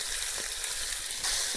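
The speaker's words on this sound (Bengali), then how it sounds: "ভালো করে ভেজে নেবো পেঁয়াজটা।" Chopped onions frying in hot oil for a jackfruit and prawn curry give off a steady, close sizzle with faint crackles, heard alone without any talking.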